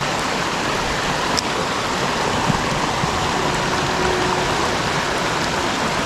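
A shallow brook flows into a deep pool, giving a steady, full rushing and burbling of water that stays constant throughout, close by and fairly loud.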